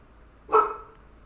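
A single short dog bark, close and fairly loud, rising out of a quiet room and fading quickly, with no talking around it.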